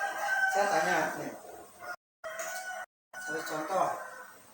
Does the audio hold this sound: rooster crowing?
yes